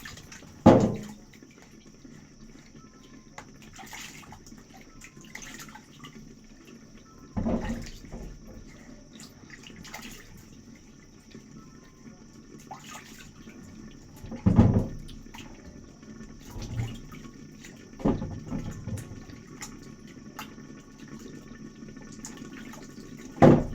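Water runs from a tap while potatoes are rinsed, a soft steady trickle punctuated by several louder splashes and clunks at irregular intervals, with no speech.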